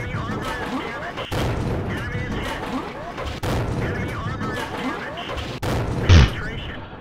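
The T71 autoloader tank's cannon fires in World of Tanks as sharp, loud blasts at intervals, with rumbling battle noise between them.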